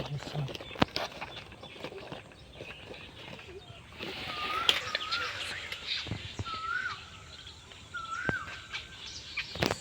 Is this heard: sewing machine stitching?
no